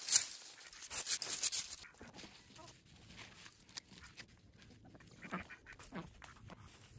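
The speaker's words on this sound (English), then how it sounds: "The ducks and chickens are very loud and rowdy today" Ducks quack faintly in a yard alongside chickens, with scattered short calls at a distance over quiet outdoor background.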